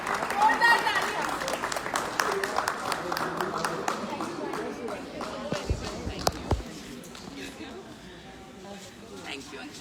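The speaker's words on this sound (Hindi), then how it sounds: "जोरदार तालियां" Audience applause at an event, moderate and somewhat distant, with scattered claps and a couple of sharp knocks late on, fading toward the end under background voices.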